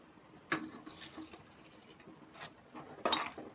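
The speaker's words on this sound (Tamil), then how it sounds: "இதுக்கு தேவையான ஒரு கப் தண்ணி சேர்த்துக்கோங்க" Water is poured into a small mixer grinder jar, splashing and trickling in a couple of short bursts, close by, with quiet pauses between.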